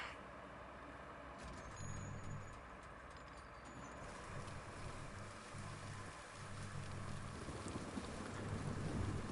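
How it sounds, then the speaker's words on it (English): Steady rain with low rumbling thunder from the Deluge video game, a continuous wash of downpour with intermittent deep rolls of thunder running throughout, no voices. "Oh, I hear the thunder."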